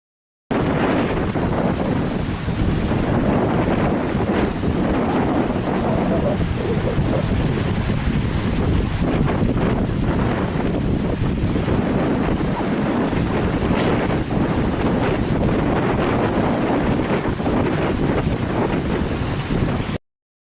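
Strong, steady wind buffets the microphone beside a lake at Battery Point, Lake Massabesic, a loud continuous roar with gusting rumble and possible wave wash throughout, no talking.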